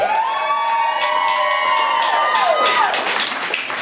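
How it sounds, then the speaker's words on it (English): Family members applauding and cheering at an 80th birthday party, loud and close, with whoops and a bright sustained vocal cheer rising and falling over steady clapping. "This announcement is so big that there needs to be a pre-applause right now."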